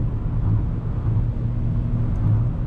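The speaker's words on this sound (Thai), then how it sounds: "เสียงมันลากรอบหน่อยเพราะอะไรเพราะเกียร์มัน4สปีดเอง" Mitsubishi Xpander Cross with a 1.5-litre engine and 4-speed automatic gearbox, its engine droning at steady high revs while cornering at speed, a continuous low rumble heard from inside the cabin without talk.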